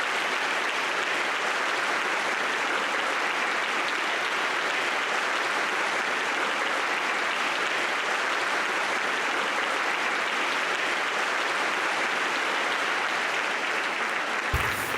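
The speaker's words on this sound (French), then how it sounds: "Veuillez s'il vous plaît donner une forte main d'applaudissements pour M." An audience at a school sports gala applauds a volleyball coach, a steady, full roar of many clapping hands sustained throughout without a break.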